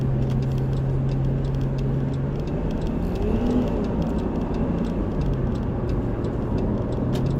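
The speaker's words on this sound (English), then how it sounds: "did you hear those turbos spool up?" A steady engine drone inside a car with the rising whine of turbochargers spooling up layered over it, plus faint ticking; continuous and fairly loud, no talking.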